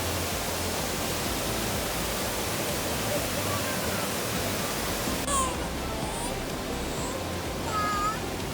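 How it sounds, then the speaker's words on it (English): A waterfall beside a hotel gives a continuous, even roar of rushing water under faint scattered high chirps and squeaks late on, with no clear speech. "Wow, look at this waterfall, baby Jocelyn."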